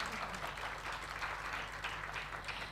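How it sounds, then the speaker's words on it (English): An audience at an international literature, linguistics and language teaching conference claps in a steady, dense patter, faint and somewhat distant, without talk over it. "Please give another round of applause for our speaker and moderator."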